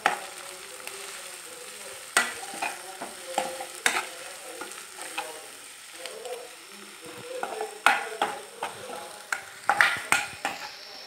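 Onions with cumin and crushed garlic sizzle in a pan for an egg curry, steady frying broken by repeated scraping stirs of a spoon, close and fairly clear.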